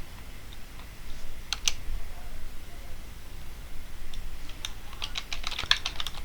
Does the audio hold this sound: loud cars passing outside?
no